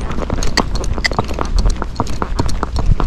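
A Fox Trotter horse moving along a road with steady, crisp hoof clops, a rapid, rhythmic stream of loud, close strikes kept in gait.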